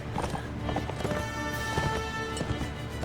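Fast clip-clop of several galloping horses in Mount & Blade: Warband, a dense rhythmic drumming of hooves under a steady background tone.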